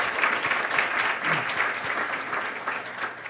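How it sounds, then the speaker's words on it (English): A club meeting audience gives a steady round of applause, dense clapping filling the room at a constant level throughout. "let's have another round of applause for Michelle"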